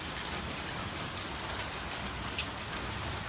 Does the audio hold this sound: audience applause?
no